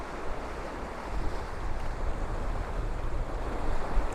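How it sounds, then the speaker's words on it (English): Waves surge against a harbour wall at St Monans pier, a continuous wash of surf building and receding under gusty wind, no voices. "the wave comes in, hits this wall, and then goes back again"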